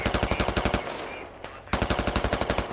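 Rapid automatic gunfire in the video game Squad, loud close bursts of evenly spaced shots, a brief pause with softer distant noise, then another sustained burst.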